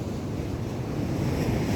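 Big surf pounds an Australian beach while the wind blows offshore: a steady, loud, rumbling roar of breaking waves mixed with wind buffeting the microphone, with no clear single wave crash.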